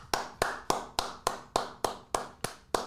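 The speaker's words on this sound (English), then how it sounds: "We clap for ourselves, George." Two people applaud together, a short burst of about nine sharp, evenly spaced claps, close and fairly loud with no talking.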